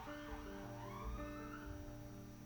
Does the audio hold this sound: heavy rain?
no